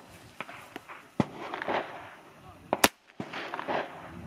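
Several sharp gunshots are fired at a Level 3A kevlar vest, crisp isolated cracks separated by pauses, with one louder report near the end and quiet shuffling and movement between them.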